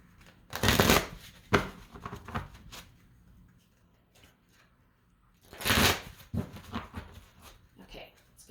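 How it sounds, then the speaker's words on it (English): Two bursts of brisk shuffling of tarot cards, a riffle near the start and another later, with quieter handling and faint movement between them, close by. "One more shuffle."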